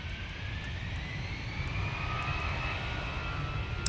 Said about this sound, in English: EasyJet now on the roll.